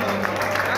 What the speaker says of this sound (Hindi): दोस्तों जोरदार तालियों में जोरदार तालियों में